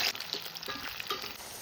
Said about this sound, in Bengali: কড়াইতে দিয়ে দিচ্ছি সাদা তেল। গরম তেলে কাঁচকলাগুলি ভেজে নেব।